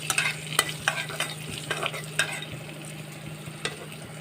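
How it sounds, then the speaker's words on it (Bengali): Cumin seeds and a dried chili dry-roasting in a pan, with close, irregular scraping and clicking stirs over a soft, steady crackle. "এটাকে আমি শুকনো খোলায় ভালো করে ভেজে নেব"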